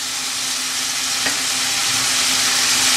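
Mushroom Manchurian mixture is stirred in a hot pan, a dense continuous sizzle and hiss with faint scraping, close and steady, with no talk.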